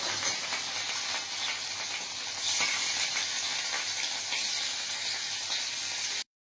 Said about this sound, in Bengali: দেখতে পাচ্ছ মাছগুলো তেলের মধ্যে দিয়ে দিল